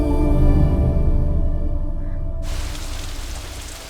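Steady rain pours down in a broadband hiss that swells and brightens partway through, staying loud and continuous, with no voices present.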